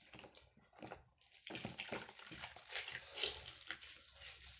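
Water running into a sink while a cloth mask is rinsed: faint, steady splashing and trickling, with brief rubbing and sloshing, quiet and continuous, with no talking.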